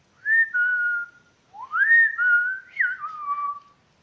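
A person whistles an imitation of a blackbird's song: clear, sliding melodic phrases in three short bursts, alone against near silence.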